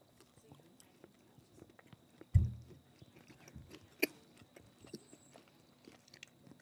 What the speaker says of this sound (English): Tasting Snickers crunchy peanut butter.